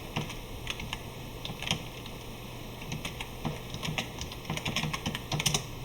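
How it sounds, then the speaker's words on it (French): Fingers tap on a computer keyboard in quick irregular bursts of clicks, close and moderately loud over a faint steady hum, with no talking. "Alors, on va taper."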